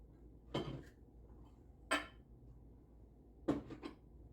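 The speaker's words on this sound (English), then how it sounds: "getting out a glass measuring cup to measure the water" A glass measuring cup comes out of a kitchen cupboard in three separate clinks and knocks, close and quiet, spaced a second or so apart against a hushed room.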